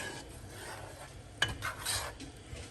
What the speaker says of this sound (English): So I'm gonna let that work and keep stirring it